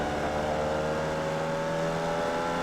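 A Formula Vee race car in iRacing pulls out of a corner at Circuit de Ledenon. Its engine gives a steady, buzzing drone that stays level and close throughout, with no talk.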